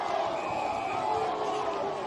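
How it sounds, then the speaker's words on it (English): Local spectators at a Sacred Heart v Rostrevor school football match send up a steady wash of cheering and jeering, a continuous crowd roar with mixed voices, moderately loud and unbroken. "A bit of cheering and jeering from the locals"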